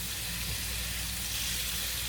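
Thinly sliced Philly cheesesteak meat frying on a hot surface, a steady, even hiss and crackle with no talking.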